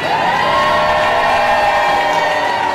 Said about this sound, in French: On va faire une dernière acclamation pour le grand maître, Jésus.